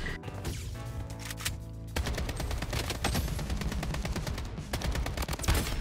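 Rapid automatic AK rifle fire and sniper shots trade back and forth in the shooter video game Blood Strike, a loud, dense fusillade of bursts running almost continuously throughout.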